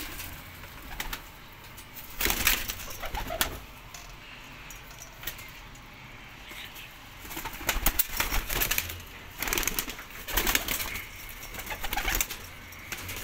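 Several pigeons cooing and rustling nearby, with bursts of wing flapping and scuffling that come and go over a steady low background.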